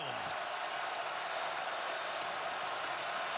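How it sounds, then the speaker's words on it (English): A stadium crowd at a Michigan vs Wisconsin football game roars and cheers in a loud, unbroken wash of noise. "This crowd starting to really jump around."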